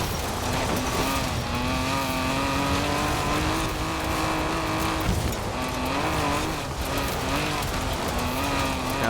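Forza Horizon 4 car engine droning loudly and steadily with shifting harmonic pitch, tires rumbling as the car cuts across a road onto gravel, with a brief dip in revs midway.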